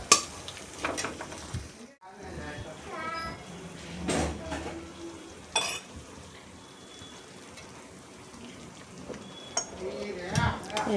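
Spices being stirred and fried in a pan for a homemade rice dish, a steady close sizzle with scraping and clattering of the spoon throughout, interrupted by a brief pause.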